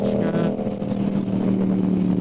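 On a local track, a Yamaha R7 motorcycle engine hums steadily with a rising whine at the start, sitting under a voice speaking throughout.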